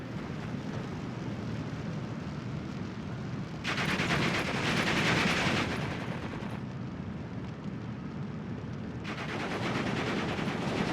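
MG42 machine gun fire and other battlefield gunfire in the WWII strategy game Steel Division 2. The din rolls on steadily, with louder bursts swelling in the middle and again near the end.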